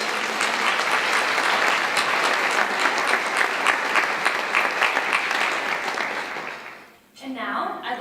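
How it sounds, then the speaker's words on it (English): A luncheon audience at a health event applauds its sponsors, a full, even round of clapping that holds steady, then dips briefly near the end before the room noise picks back up. "Give them a round of applause too."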